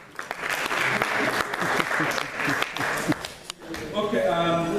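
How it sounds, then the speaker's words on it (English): Audience applause in a lecture hall, clapping spread through the room for about four seconds with talk mixed in, then dying away. "You want to clap for him?"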